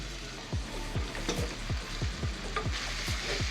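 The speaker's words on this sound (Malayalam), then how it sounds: "കോവയ്ക്കോട് ഇട്ട് കൊടുത്ത് നല്ലതായിട്ട് തന്നെ ഇളക്കി മിക്സ് ചെയ്ത് കൊടുക്കാം" Ivy gourd and onions being stir-fried in a pan, a steady sizzle under repeated scraping strokes of a spoon roughly every half second, close and fairly loud.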